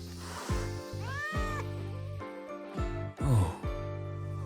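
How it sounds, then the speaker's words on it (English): Frightened stray cat in the game Wuthering Waves giving a string of about six distressed meows, close and clear, some rising into a strained wail near the end, with no talking over them. "It doesn't seem to be a cat registered with the academy."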